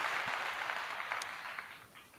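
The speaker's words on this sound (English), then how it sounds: "Once again, clap to you." An audience applauds in a steady, dense wash of clapping that gradually thins and fades toward the end.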